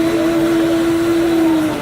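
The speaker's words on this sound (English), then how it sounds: "I'm going to blend it just a moment longer." A Kuvings SV500 vacuum blender runs steadily at a trade show, a loud continuous motor whine with a strong sustained tone and no change in pitch throughout.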